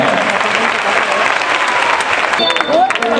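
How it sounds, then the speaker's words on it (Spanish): A bullring crowd at a 2011 bullfighting contest in Parla, Spain, applauds loudly and steadily throughout, and a voice speaks over the dense clapping. "Un fuerte el aplauso para este chico argentino."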